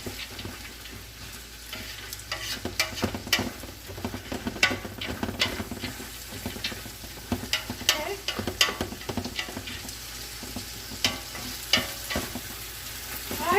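Portions of smoked meat for a yellow split pea chowder sear in a hot pan, a close steady sizzle broken by frequent spatula scrapes and clicks as pieces are turned, with no voices.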